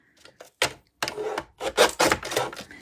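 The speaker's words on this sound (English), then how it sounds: "I need to trim this back to the size of my piece of card." A blade trims a sheet of card to size in a few close, scratchy rasping strokes that follow a couple of light taps, and there is no talking.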